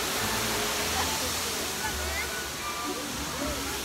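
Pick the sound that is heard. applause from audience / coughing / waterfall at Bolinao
waterfall at Bolinao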